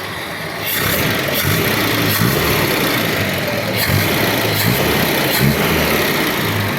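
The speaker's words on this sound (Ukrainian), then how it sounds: "Ну що, запустив я Волгу, дивіться." A GAZ Volga 3110 idles after an engine swap, with freshly adjusted ignition timing and carburettor. The engine makes a loud, steady, close rumble with a slightly fast idle, and no voices are heard.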